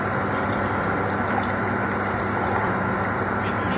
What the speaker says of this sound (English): I'm gonna pour my floury water slowly into the mix and keep stirring